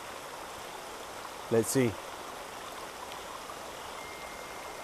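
Steady rain falls outdoors during a bass fishing trip, a constant soft wash that runs through the whole stretch, with a brief spoken phrase near the middle.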